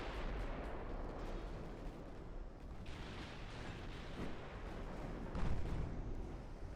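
Warship big guns fire in the naval game Ultimate Admiral: Dreadnoughts, a dense barrage of heavy booms and rumbling blasts rolling over one another at a moderate level, with no voices.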